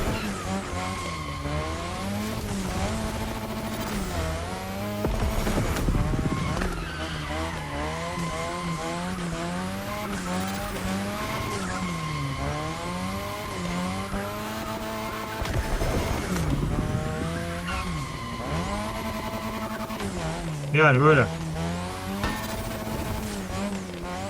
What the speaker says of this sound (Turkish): Ama drift arabası harbiden de baya baya kayıyor arkadaşlar.